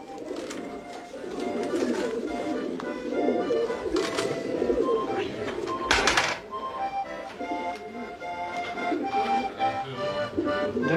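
Racing pigeons in France coo continuously in a loft, many birds layered together at close range, with a brief louder flutter of wings midway and a murmur of speech in the background.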